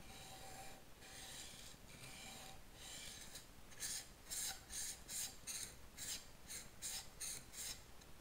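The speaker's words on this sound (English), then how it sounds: "this is, I think, a 440 grit diamond stone" A workpiece is rubbed back and forth on a 440 grit diamond sharpening stone, making a close, gritty rasping in repeated strokes that grow quicker and more even toward the end.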